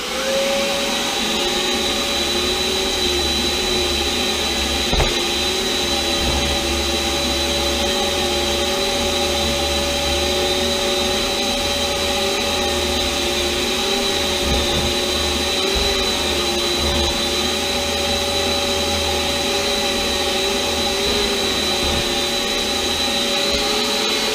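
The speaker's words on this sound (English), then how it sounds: "that was about 20 seconds of using the shop vac." A shop vacuum runs continuously at a loud, steady roar with a constant motor whine, no voices over it.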